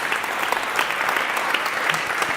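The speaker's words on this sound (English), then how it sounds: "So I would like to ask you to applaud all the moderator" Dense, steady applause from a conference audience honoring moderators and panelists at a soil carbon climate event, sustained and even throughout with no voices on top.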